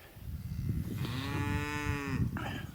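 A cow moos once, a long, steady, drawn-out call lasting over a second, set against constant low rumbling wind and outdoor noise on a pasture among beef cattle with bull calves.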